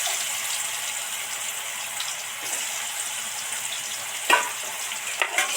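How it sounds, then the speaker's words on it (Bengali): Bitter gourd pieces fry in hot oil seasoned with salt and turmeric, giving a steady, loud, crackling sizzle with a couple of sharper spatters and stirs near the end; no one speaks. "দিয়ে ভালো কটা উচ্ছে কটা ভাজতে থাকবো।"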